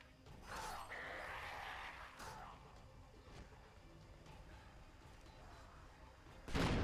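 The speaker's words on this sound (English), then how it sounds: "Take this flare gun and use it to ignite the barrels by the bridge." Explosive bursts as barrels ignited by a flare gun blow up in the video game Dead Island Riptide, a burst near the start and a sharp loud blast at the end, with scattered thuds and clatter between.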